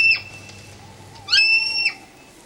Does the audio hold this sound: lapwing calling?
yes